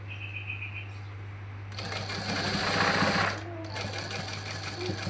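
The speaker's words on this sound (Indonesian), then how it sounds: "Kita jahit pelan-pelan saja." A sewing machine stitching a fabric sleeve cuff, a steady, close mechanical whirring that starts after a quiet hum, pauses briefly, then resumes, with no one speaking.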